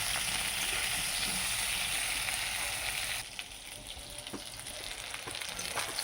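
Food frying in hot oil, a steady broadband sizzle that runs continuously and eases slightly in intensity partway through, close and unaccompanied by speech.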